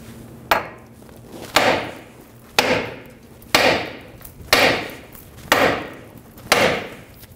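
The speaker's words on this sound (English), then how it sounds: "Using a hammer, we're going to hit this area to release the tension on the outer tie rod." A hammer strikes a 2007-2011 Toyota Camry steering knuckle to free the outer tie rod, seven sharp metallic blows at an even, roughly one-second rhythm, each ringing briefly, close and loud with no talk.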